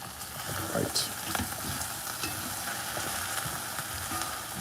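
Okra and saltfish fry in a pan with a continuous crackling sizzle, close and steady, with occasional stirring clicks and no voices.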